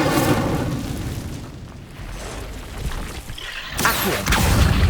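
Incendio fire spell cast in Hogwarts Legacy on PS5, a booming burst of flame with a crackling, rumbling body that swells again into a sharp blast near the end.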